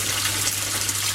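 Water from an aquaponic grow bed's bell siphon drains in a steady, close, rushing gush with no break across the short stretch.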